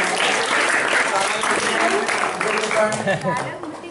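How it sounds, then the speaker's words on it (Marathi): A school audience in Satara breaks into loud applause for a student volunteer at a science-versus-miracles demonstration, steady crowd clapping that thins toward the end while voices carry over it. "अरे वा, जोरदार टाळ्या वाजवा याच्यासाठी"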